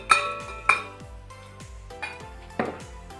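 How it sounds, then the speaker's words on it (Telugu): A few ice cubes dropping into a glass of fresh lemon juice with a pinch of salt, giving several sharp, separate clinks over soft background music. "2-3 ఐస్ క్యూబ్స్ వేసుకోండి."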